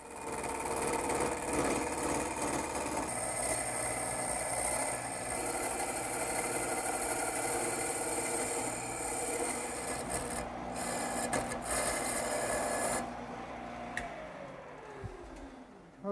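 A wood lathe turns a spinning blank while a cutting tool follows a masonite template profile, giving a steady, close rasping scrape over the motor's hum, which eases off and winds down near the end.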